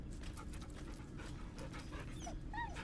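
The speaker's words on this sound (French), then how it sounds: "Il est beau, il est beau, le chien." A dog named Scratch in Baldur's Gate 3 pants rapidly in quick rhythmic breaths, mixed with a few short high whimpers and yips near the end, quiet and without talk.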